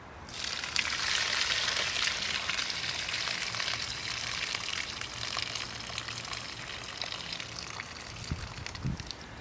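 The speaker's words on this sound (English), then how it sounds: "I'm going to drain the water once again and see what I've got for a root base." Water gushes and trickles steadily from a bonsai pot holding a Scots pine, a close, continuous splashing drain that holds for several seconds with a few small knocks near the end.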